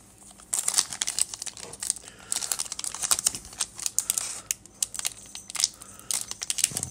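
Pokémon card fun pack from a holiday calendar torn and opened by hand, its foil wrapper giving close, repeated crinkling and crackling bursts with short pauses between.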